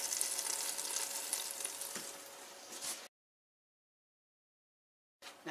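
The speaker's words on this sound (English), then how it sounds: "Hear that sizzling?" Boneless chicken thighs sizzle steadily inside a 1700-watt stainless steel XL electric air fryer, a dense crackling hiss with small pops for about three seconds, then sudden silence before the sizzle briefly returns at the end.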